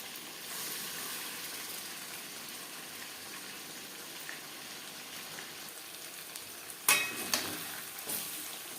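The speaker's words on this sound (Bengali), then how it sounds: "চিকেন উল্টে পাল্টে ভেজে নেব।" Chicken frying in refined oil over a high flame gives a soft, steady hiss with faint spattering, heard from a little distance, broken by a sudden utensil knock and a few brief clatters near the end.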